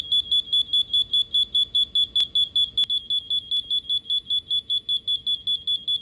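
A low-oxygen alarm on a confined-space box sounds a loud, steady series of evenly spaced high electronic beeps, repeating rapidly and close with no talk.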